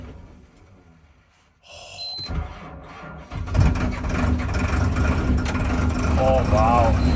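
A Case IH Magnum tractor engine on a farm, plugged in and started in bitter cold weather, turns over after a short quiet stretch and then settles into a loud, steady, rumbling idle that fills the rest of the clip.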